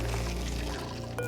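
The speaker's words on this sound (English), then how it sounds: "dropping some polluted water in here" Polluted water pours in the Oxygen Not Included video game, a brief, fairly quiet burst of splashing liquid over a low steady hum.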